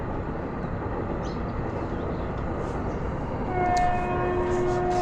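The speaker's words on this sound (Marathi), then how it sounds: "रेल्वे आली बघा" A train rumbles past with a steady roar, and its horn sounds near the end, loud and sustained.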